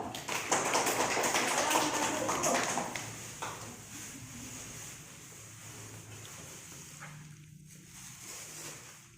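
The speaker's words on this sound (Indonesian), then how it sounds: "tepuk tangan untuk Reno dulu" Children in a classroom clap together for a classmate named Reno, a loud burst of dense clapping for about three seconds that fades into quieter room noise.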